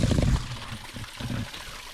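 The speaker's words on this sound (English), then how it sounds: "Fresh spring water coming straight out the mountain." Fresh mountain spring water trickles from a tube outdoors, a soft splashing burble heaviest at first, then lighter intermittent gurgles, close and without talk.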